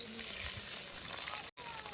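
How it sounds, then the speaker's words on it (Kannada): Fish frying in a pan at a roadside cookout between Karwar and Goa, a steady broadband sizzle and crackle running continuously and close, broken only by a brief dropout near the end. "Fish fry ready ಆಗತ್ತವ್ರಿ."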